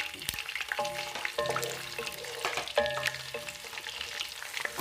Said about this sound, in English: I'm going to add a bit of my onions to it.